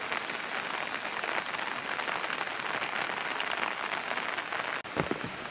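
Heavy rain pours down at a temple in Korea in a dense, steady hiss, with a brief thud near the end.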